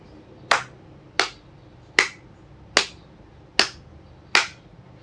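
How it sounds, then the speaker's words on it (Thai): Six sharp, evenly spaced claps ring out one at a time from a single person, each crisp hit followed by a short echo. "เสียงตรบมือของใครคนหนึ่ง ก็ดังก้องขึ้นมาทันควัน"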